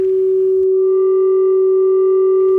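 Steady pure sine tone fed into the linear FM input of a Joranalogue Filter 8 Eurorack filter module, holding one clean pitch with faint overtones throughout, with a brief burst of noise at the start and end.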